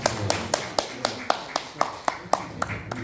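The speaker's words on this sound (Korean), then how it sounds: "큰 박수로 환영해 주시기 바랍니다." Rhythmic clapping in a library audiovisual room as an audience welcomes a lecturer to the podium, about a dozen evenly spaced, moderately loud claps in a steady beat.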